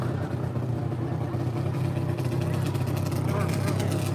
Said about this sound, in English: Now another nitro bike coming up.